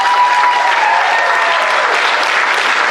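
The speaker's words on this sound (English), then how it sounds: "One more round of applause." Audience applause at a 2019 senior recognition ceremony, a loud, dense round of clapping that fills the whole stretch steadily without voices on top.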